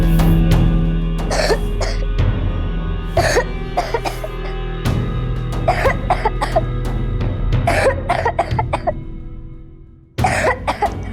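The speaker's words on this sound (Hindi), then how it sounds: "करता है खांसने का नाटक" A boy coughs in short bursts, pretending to cough, with repeated dry hacks and throat clearing scattered over a low steady hum, followed by a brief pause and then a few more coughs.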